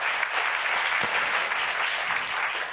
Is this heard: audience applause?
yes